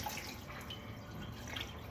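Cold kitchen tap water trickling and dripping into a cup for a lemon pie filling, a light, irregular splash heard close and fairly quiet.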